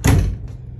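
Interior door of a Fuzion 369 trailer swinging shut and latching, one loud close thump followed by a faint click.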